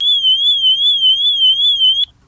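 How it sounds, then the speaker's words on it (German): A camper van's shrill electronic panic alarm, triggered from a handheld remote, wails in a rapid warbling tone, loud and steady for about two seconds before cutting off abruptly. "einfach einen Panikalarm auslösen"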